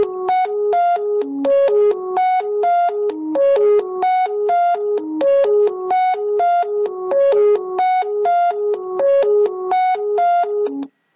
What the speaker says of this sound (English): We are taking an audio file and we are able to synthesize using a sine wave